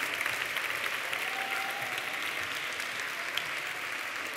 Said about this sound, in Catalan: Un fort aplaudiment per tots vosaltres.